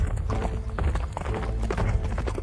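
Horses' hooves clip-clop in a brisk, steady rhythm close by, loud and continuous, with a brief whinny in the mix.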